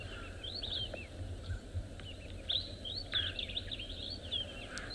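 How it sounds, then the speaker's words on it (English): A brown-hooded kingfisher calls at sunrise on an African safari, giving a series of faint, distant chirping notes over a steady background of insects and bush ambience. "I hear a brown-hooded kingfisher."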